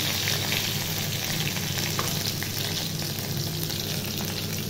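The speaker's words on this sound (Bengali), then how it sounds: "তো তার সাথে দিয়ে দিলাম কয়েকটা টমেটো কুচি" Chopped tomatoes fry in hot oil with whole garam masala for a chicken kofta curry, giving a steady, close sizzle that holds at an even level with no talk.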